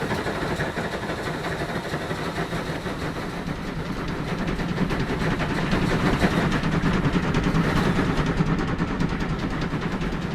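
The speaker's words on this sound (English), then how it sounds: "So now trains are moving." Trains run in the railway game Transport Fever 2 with the UK mods, giving a steady, loud rumble of rolling stock and engines that builds slightly and carries on throughout without a break.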